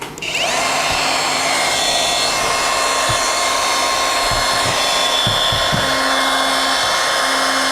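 A Stanley FatMax SBW400 power tool runs at its lowest speed, a steady smooth motor whine held continuously and fairly loud with a few faint clicks underneath.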